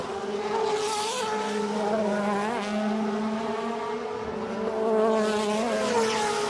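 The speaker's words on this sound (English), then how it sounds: "Just letting you listen to the noise of these fabulous V8 engines." DTM race cars with V8 engines of about 470 horsepower race at the Norisring, a continuous loud, steady engine roar with shifting pitch as cars pass.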